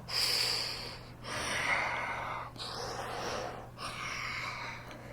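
The alien creature in the film Aliens breathing gnarly and raspy, four long hissing, wheezy breaths with short pauses between them, close and prominent over a faint steady hum.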